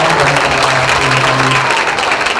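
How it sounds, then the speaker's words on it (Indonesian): An indoor audience at the Kompasianival event gives a brief burst of dense, even applause, loud and close, with a faint voice underneath. "Tepuk tangan buat Pak Ahmad dan"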